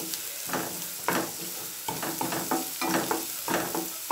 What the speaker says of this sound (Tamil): ஒரே ஒரு பச்சை மிளகாய் தான் கட் பண்ணி போட்டுக்கேன். இது வதங்கட்டும் நல்லா.